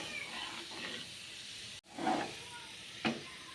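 Dal lentils roast lightly in a pan with a faint, steady sizzling hiss, broken by a brief gap and a couple of soft stirring scrapes.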